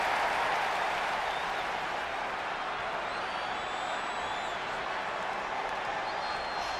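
A large arena crowd in the WWE 2K20 wrestling video game cheers and applauds in a continuous broad roar, moderately loud and steady throughout, with faint whistles on top.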